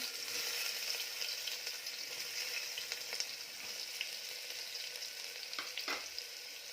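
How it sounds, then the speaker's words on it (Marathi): Finely chopped onion frying in hot oil for a Kolhapuri-style brinjal amti, a steady, even sizzle heard alone and close, with a couple of brief stirring scrapes near the end. "तेल गरम झाल्यानंतर जो कांदा आपण बारीक चिरून घेतला तो घालायचा"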